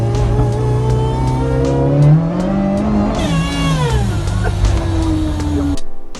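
A supercharged Toyota 4A-GZE car engine revs up and down close by, its whining pitch rising and falling as it accelerates, then cuts off abruptly at the end.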